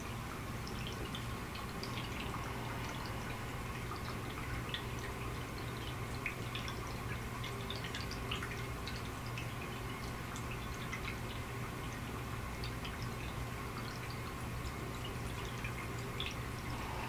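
Water drips in a quiet, calm setting, small scattered drops falling irregularly over a faint steady background of running water, soft and unhurried throughout.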